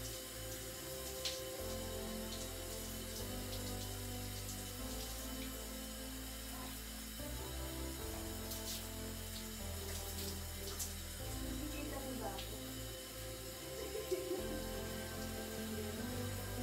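A faucet runs steadily for a rinse of salty skin after a beach swim, a continuous close splashing stream with small bursts of spatter and no talking.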